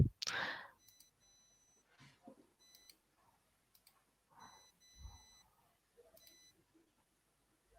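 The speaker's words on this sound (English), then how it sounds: "I do hear a small beep" A small electronic beep sounds several times at regular intervals, thin and high, with quiet thumps and faint breathing between them.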